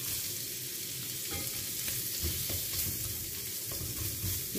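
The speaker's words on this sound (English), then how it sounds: "I'm going to add some onions." Onions fry in melted butter in a pan while making fried rice, giving a steady close sizzle with occasional stirring scrapes and no talking.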